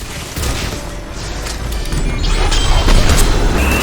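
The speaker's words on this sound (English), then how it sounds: "Missiles away!" Missiles launch and burst in the video game Mass Effect 3, a loud, dense rumble of blasts and crashes that builds steadily and stays thick throughout.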